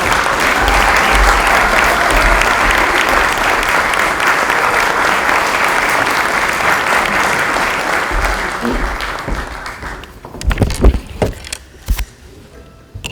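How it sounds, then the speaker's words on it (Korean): Warm applause from a room of newly elected National Assembly members welcoming a candidate for deputy speaker, a dense, loud round of clapping that fades after about ten seconds into a few scattered claps and handling noises. "뜨거운 환영의 박수 부탁드리겠습니다"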